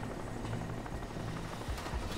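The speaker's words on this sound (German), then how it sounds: "Und noch so ein scheiß Helikopter." Helicopter in the Crysis video game, a steady rotor drone hovering at moderate distance, continuous and fairly even throughout with no talking.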